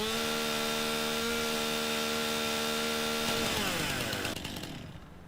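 A chainsaw cuts through wood in Farming Simulator 19, its loud, steady high whine running continuously before the pitch drops and the sound fades out at the end.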